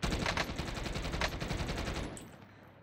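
Rapid automatic gunfire rattles in a dense burst from a video game, loud and continuous for about two seconds before trailing off.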